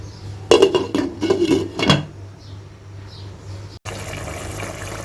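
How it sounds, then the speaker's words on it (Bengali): A spoon clatters against a pot while calabash and prawn curry is stirred, a few sharp metallic scrapes and knocks, then a quieter pause and the soft clunk of a lid set on top. "এখন একটু নেড়ে দিচ্ছি, একটু নাড়াচাড়া করে আবার ঢাকনা দিয়ে আমি এখন ঢেকে দেব"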